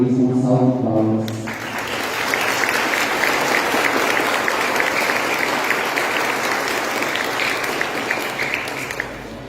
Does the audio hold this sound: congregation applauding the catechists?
yes